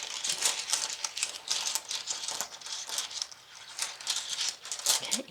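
Small rune stones rattle and clatter against each other as they are drawn from a set, a continuous close clicking and shuffling with no talk.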